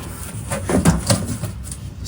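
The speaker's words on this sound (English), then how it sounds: "Let's open the box." Cardboard box for a Meepo Monsoon Legacy electric skateboard being opened up close, with a few short thuds, scrapes and rustles of the flaps over about two seconds.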